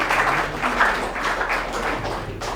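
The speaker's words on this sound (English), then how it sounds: "Can we just give ourselves a hand of applause?" Audience applause at an SCCH talk on data in innovation, a steady wash of clapping from a room of attendees lasting a few seconds with no talk over it.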